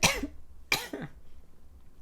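A person coughs three times in quick, sharp bursts, close to the mic and fairly quiet, with no talking around them.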